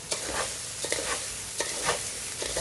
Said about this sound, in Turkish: Şimdi karıştırıyoruz.